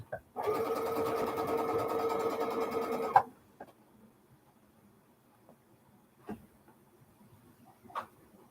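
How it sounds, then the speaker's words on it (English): Sewing machine stitching string quilt blocks together, a steady, close mechanical whir running for about three seconds before stopping, followed by quiet room tone with a few soft clicks and handling sounds. "So I can quick sew those together so that I have"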